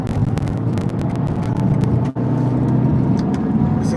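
A car drives with a steady, loud engine and road rumble heard from inside, broken by one short dip just past the midpoint.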